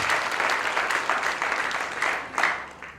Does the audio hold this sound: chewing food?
no